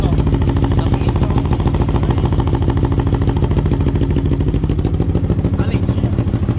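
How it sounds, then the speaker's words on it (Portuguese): A Honda CB 300 converted to a two-cylinder engine, running on methanol with a Twister carburetor, idles close by with a steady, rapid lumpy firing pulse that stays loud and even throughout. "Agora sim tá fazendo um barulho de moto que corre mesmo, hein?"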